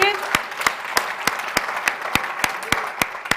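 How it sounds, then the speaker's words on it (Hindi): Audience claps loudly for Sanjay Jain at a Hindi poetry gathering, steady crowd applause punctuated by sharp, evenly spaced loud claps close by, with a voice faintly audible early on. "एक बार जोरदार तालियां हो संजय जैन जी के लिए।"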